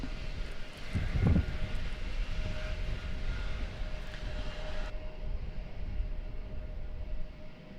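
Southwest airliner approaching to land at Raleigh-Durham International in stormy weather: a distant, steady engine roar and rumble rising slightly, with wind noise and no speech.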